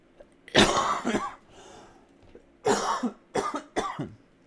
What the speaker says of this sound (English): I really am trying to get over the cough